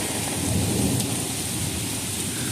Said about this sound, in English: Looks like we had a good little storm.